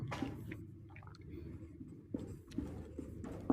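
Pen or chalk scratches across a board in a physics lesson, with a few short, faint strokes and taps in quiet surroundings.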